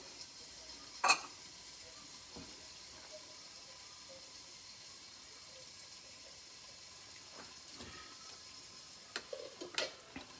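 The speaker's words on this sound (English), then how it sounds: "can see that's frying off nicely" Onions, ginger and garlic frying in oil for a Kerala-style fish curry: a faint, steady sizzle and hiss running throughout, with a sharp clatter near the start and a few soft stirring scrapes toward the end, and no talking.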